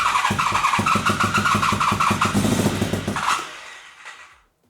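A Honda VFR 750 motorcycle, firing on only two of its four cylinders, runs with a rough, uneven engine roar up close before cutting off and fading into silence.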